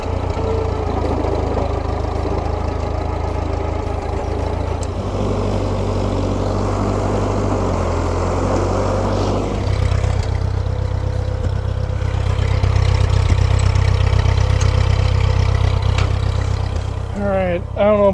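A tractor engine idles at close range while loading for a fall garden harvest. Its steady low drone runs throughout under intermittent talk, and the pitch shifts partway through.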